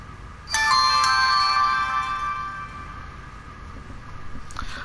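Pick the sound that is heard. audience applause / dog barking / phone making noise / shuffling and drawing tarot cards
phone making noise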